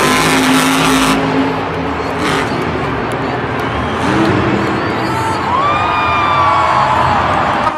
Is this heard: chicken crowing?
no